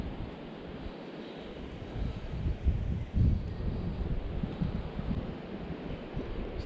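Wind blows steadily outdoors on Stewart Island, a low, constant rumble with buffeting gusts that swell around the middle, rough and broadband with no voices.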